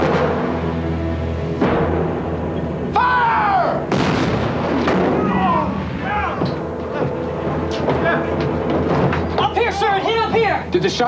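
A cannon shot strikes the armored hull of an ironclad warship, a heavy booming impact within a dense, continuous battle din of gunfire and shouting voices, with further blasts and clangs throughout.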